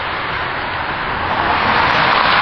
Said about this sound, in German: ein etwas störender Verkehrslärm